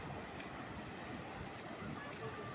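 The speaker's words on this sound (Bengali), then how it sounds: "এখনো ঢেউ মোটামুটি চলছে, খুব সুন্দর পরিবেশ" Sea waves washing onto Mandarmani beach on a morning, a steady, soft wash of surf with wind rumbling across the microphone, fairly faint and continuous.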